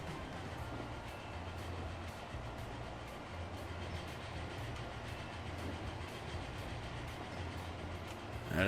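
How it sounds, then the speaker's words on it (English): An old, worn-out locomotive rolls along in the Transport Fever game, a faint, steady rumble with soft rhythmic rail clatter and a low engine drone throughout. "That is a old and worn out locomotive."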